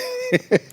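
Two short, close coughs in a row, loud and abrupt, following a brief sustained voiced tone in a lively podcast setting.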